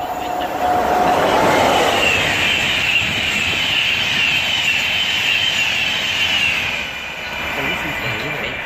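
A train passes through Welwyn Garden City station on the East Coast Main Line with a loud, sustained rumble and a thin whine, easing off near the end.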